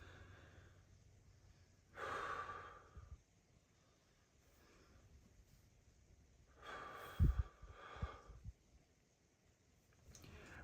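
A person takes two deep breaths, each a long airy inhale and exhale, heard close and fairly loud against a quiet background with no speech.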